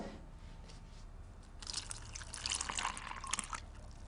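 An egg and a cup of milk are poured into a bowl of pancake mix, a faint splashing pour that starts halfway through and stays soft and close.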